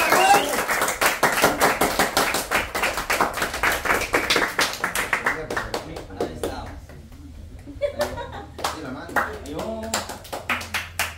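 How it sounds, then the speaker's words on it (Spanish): A small group claps hands in a steady, rhythmic beat, loud and close, while voices chatter and laugh over it; the clapping thins out partway through and resumes in looser bursts. "aplausos. Aplausos."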